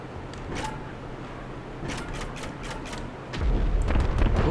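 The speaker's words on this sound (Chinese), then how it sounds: "看不太到下去，我低飞好了，低飞轰炸试试看。" Bombs dropped from an LF-22 Starling aircraft in GTA Online go off in a series of sharp explosive bursts, several clustered together, over a rising low rumble of the plane.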